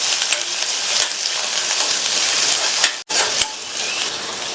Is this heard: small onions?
yes